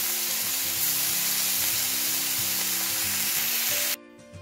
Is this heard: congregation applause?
no